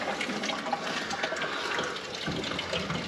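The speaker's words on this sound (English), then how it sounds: "there's water flowing in there now at the moment" Water flows through freshly repaired farm pipes in a continuous rushing, gurgling hiss, close and fairly loud, steady for a few seconds without speech.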